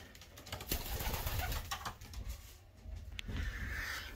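Racing pigeons back in the loft after a race, faint low cooing close by amid light shuffling and rustling, with no talk.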